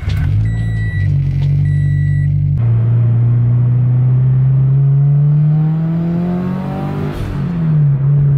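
Low, steady engine hum of a Subaru BRZ being driven, heard from inside, the pitch slowly rising as it accelerates and then briefly dropping, with high beeping tones early on and no voices.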